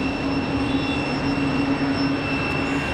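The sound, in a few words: United Boeing 737-900 jet at runway end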